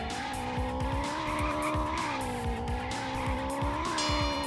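A small mechanical remote control cat's engine growls and revs in the TimeSplitters: Future Perfect racing game, its buzzy tone rising and falling repeatedly, mixed with squealing tires and quick skids, close and continuous.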